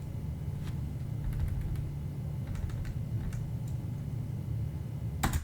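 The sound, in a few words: quiet hotel room morning room tone recording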